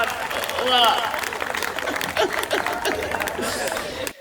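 A crowd at a Hindi comedy poetry gathering claps along steadily in a broad, continuous burst, with voices and chatter mixed through it.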